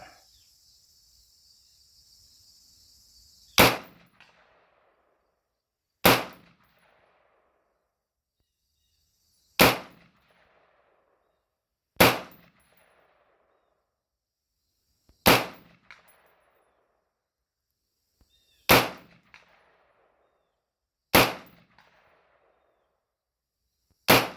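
A Keltec RDB rifle fires eight sharp, loud single shots spaced roughly every three seconds, each crack trailing a short echo, with quiet pauses between and no talking.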